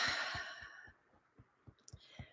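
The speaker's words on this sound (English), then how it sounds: "let's take a breath here" A long, audible exhale during a guided EFT tapping relaxation session, a soft breathy sigh that fades out, followed by faint, steady low thumps like a slow heartbeat pulse, all quiet and close with no speech.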